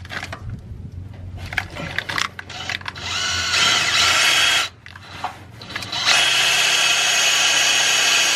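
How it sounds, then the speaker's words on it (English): A power drill fitted with a 21/64 drill bit bores a hole for an EGT probe install, whining in bursts that stop and restart, then running in long, steady, loud stretches. "that requires a 21/64 drill bit. So we're gonna go ahead and we are gonna drill this hole."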